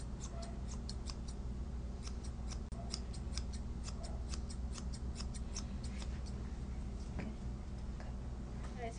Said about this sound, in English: And start using my thinning shears.